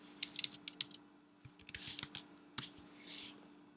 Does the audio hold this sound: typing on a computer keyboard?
yes